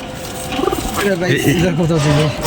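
Silver pigeons cooing nearby, a few soft, low, rolling coos in a repeated rhythm, close and clear, with someone talking over them.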